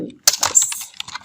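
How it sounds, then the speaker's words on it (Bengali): A computer keyboard close up, with a short burst of keystrokes that include a press of the Enter key, clicking unevenly for about a second. "ইন্টার চাপবো"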